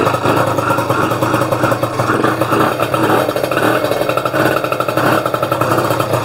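An air-cooled moped engine fitted with a new cylinder revs loudly and close, a rough rapid clattering two-stroke drone held at a high, steady pitch throughout.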